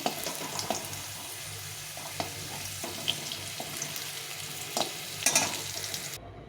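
Potato pieces fried until reddish in a pan make a continuous close sizzle, broken by irregular soft scrapes of stirring and a brief louder clatter near the end.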